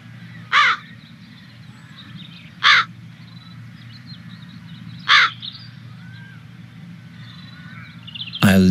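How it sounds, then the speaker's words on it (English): Crows cawing, three loud separate caws spaced a couple of seconds apart over a steady low hum, with a fourth call starting right at the end. "I'll lure the crows into the fireplace and then set up the net in front of it"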